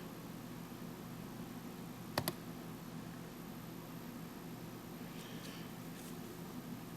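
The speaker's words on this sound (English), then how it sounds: "The course we're going to click on here is ATC English." A computer mouse gives one quick double click to open an online course link, sharp and close against a faint steady hiss, with no one speaking.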